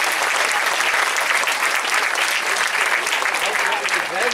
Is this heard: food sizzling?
no